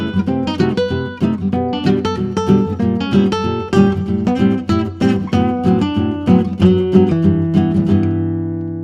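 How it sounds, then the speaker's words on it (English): Two guitars playing gypsy jazz, one on lead and one on rhythm, bright plucked melody lines over steady strummed chords that ring out at the end. "So for gypsy jazz, we usually need two guitars, somebody playing the lead and somebody playing the rhythm"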